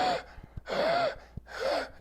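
Cow making a harsh inspiratory noise on each in-breath from a narrowed larynx caused by laryngitis; three drawn-out, wheezy gasps come at a steady rhythm, close and fairly loud, with no talking.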